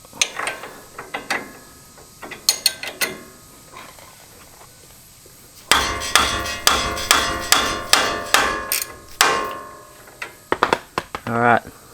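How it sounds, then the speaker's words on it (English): Repeated sharp metallic hammer blows on a stuck 19mm nut on a Toyota Hilux suspension, coming in bursts with short pauses and a faster run of strikes toward the end. "with a little bit of encouragement with the old hammer, that nut is now loose"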